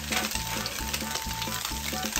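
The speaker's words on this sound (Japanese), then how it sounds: "フライパンに油を引き、豆腐を入れ焼き目をつけるように焼いていきます" Tofu sears in oil in a frying pan, a continuous close sizzle with rhythmic low thumps and scraping recurring about every half second.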